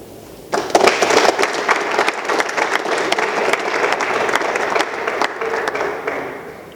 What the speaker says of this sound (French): que nous pouvons acclamer